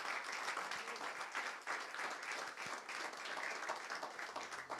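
A church congregation applauds after a pastor's sermon line, a faint, even patter of many hands clapping that runs continuously for several seconds in a large room.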